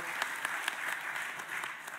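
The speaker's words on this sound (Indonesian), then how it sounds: "Kita berikan tepuk tangan yang meriah" An audience at an Indonesian political announcement event applauds steadily, a dense wash of many hands clapping at moderate distance, continuous and fairly even for the whole stretch.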